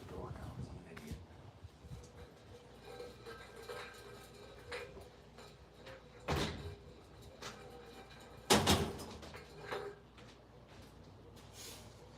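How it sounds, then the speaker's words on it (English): A door swinging shut in a home at night, heard as a couple of loud thuds amid background noise, with someone talking nearby. "I gotta go close the door now because I'm an idiot."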